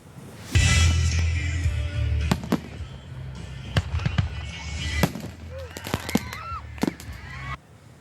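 A fireworks show at Roy Days goes wrong, with a heavy opening blast followed by a string of sharp, loud cracks and pops at irregular intervals and shrill whistling shells in between, all heard close up.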